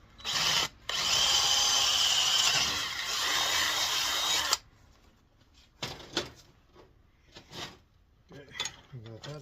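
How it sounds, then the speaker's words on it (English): Power drill boring a hole in a chopper headlight mount, a loud whirring burst of several seconds, then stopping, followed by scattered clicks and handling noises. "Okay, we got that drilled now"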